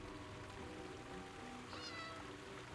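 A cat meows once inside a house in an Elder Scrolls game, fairly faint over a steady background of trickling, rain-like water.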